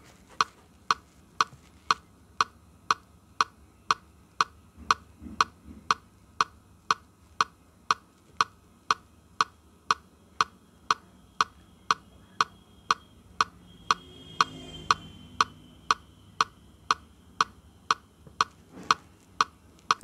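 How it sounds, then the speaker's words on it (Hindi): A Casio CTK-2550 keyboard metronome ticks continuously at an even, unbroken tempo, roughly two sharp clicks per second with no accent, steady and close over a faint background. "अब जब मेट्रोनोम बीट बजाएंगे तो कंटिन्यूसली सिर्फ टिक टिक की आवाज़ आएगी, बीच में कोई भी ब्रेक डाउन नहीं होगा।"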